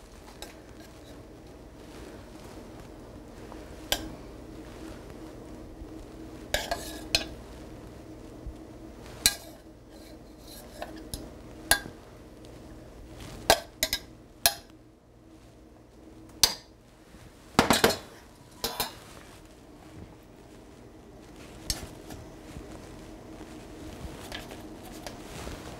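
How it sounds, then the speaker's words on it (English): A spoon ladles sauce over pork tenderloin in a pan with the burner off, making scattered metallic clinks and taps against the pan amid quiet kitchen background, with no one speaking. "Okay, we're going to spoon some of the sauce."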